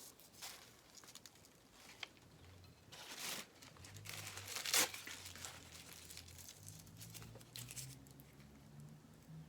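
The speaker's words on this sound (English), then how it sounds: "And then you're going to drop that tissue paper into that glue spot." Tissue paper crumpled and pressed into glue spots while crafting Ming-style vases, quiet scattered crinkles and rustles with one sharper crackle midway.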